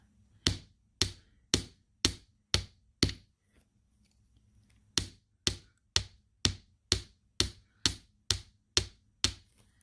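Close, crisp metallic taps come from a chasing hammer flattening a small metal jewellery ring: a run of six steady blows, a pause of about two seconds, then ten more evenly spaced strikes.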